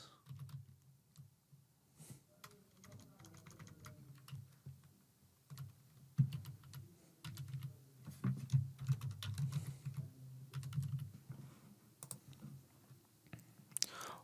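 Test card details typed on a computer keyboard, close soft key taps in bursts with pauses, under a low steady hum.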